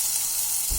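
Onions and tomato fry in a spoonful of oil in a pan, giving a brief, close, steady sizzle.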